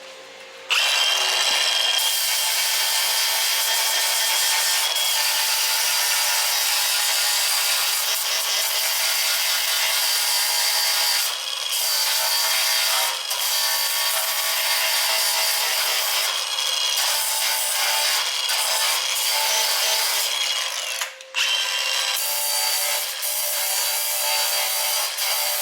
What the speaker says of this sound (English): So give that a little trim off with the sander.